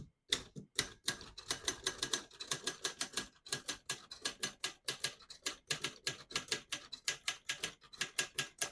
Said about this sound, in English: I'm going to type a sentence in red